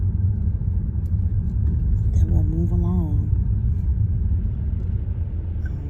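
Steady low rumble of a parked car's engine idling throughout, with a person talking over it.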